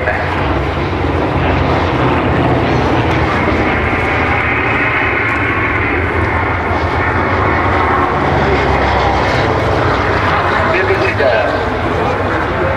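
A Boeing B-17 bomber passes low over Duxford during the Flying Legends air show, a loud continuous droning roar of piston engines and propellers with a commentator talking over it.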